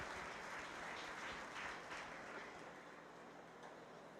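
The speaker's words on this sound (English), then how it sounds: "let's give all five of those kids a nice round of applause in the intermediate division." Audience applause at a 4-H fair swine show, steady clapping from a crowd lasting several seconds at moderate distance, with no talk over it.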